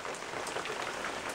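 Steady rain patters on a surface close by at a campsite on the Northville-Placid Trail, a dense, even hiss with no voices.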